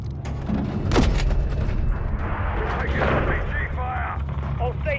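RPG blasts and gunfire in Call of Duty MW3, with a heavy boom near the start followed by rattling shots and explosions. Voices on the radio talk underneath.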